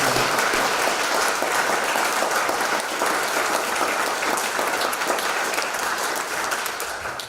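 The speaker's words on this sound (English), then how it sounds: "So if we could give a round of applause to our extraordinary senior curators" Sustained, dense applause from an audience at a museum tribute, loud and even for the whole stretch before tapering slightly at the end.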